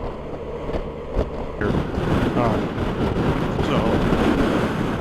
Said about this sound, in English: The only problem is the wind is so strong, I can't hear the engine.